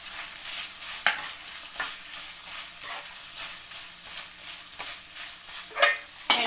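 Chopped onion fries with cooked chicken in a pan, giving a continuous hissing sizzle broken by periodic sharp clacks and scrapes as the mixture is stirred, close by with no talking.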